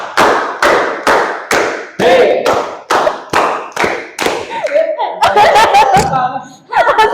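A group in a guidance-and-counselling classroom session claps a rhythm pattern together: loud, close, evenly spaced single claps that speed up into quicker clustered bursts. Chuckles and laughter mix in toward the end.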